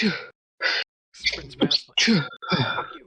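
A person sneezes sharply and close by, with short, explosive bursts set among talk from others at a tabletop role-playing game session.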